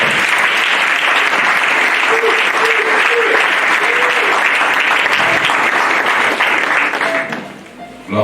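A church congregation claps steadily and loudly for several seconds, dense sustained applause that thins out toward the end.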